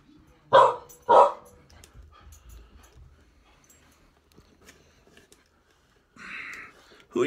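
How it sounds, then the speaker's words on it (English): A dog barks twice in quick succession, close and loud, in a hotel setting, followed by faint room noise, a brief scrape and a higher-pitched noise near the end. "Who are you barking at, Drew the dog?"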